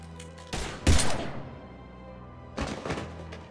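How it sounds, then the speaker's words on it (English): Gunfire in the video game Mass Effect 3: two loud bursts of shots, one near the start and a stronger cluster around the first second, then a quieter volley about two seconds later over a low hum. "Now open fire!"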